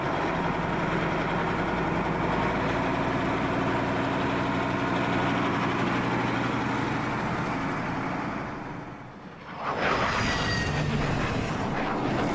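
Propeller aircraft engine drones loudly and steadily on the runway at Midway island, dips briefly, then surges again with a rising whine.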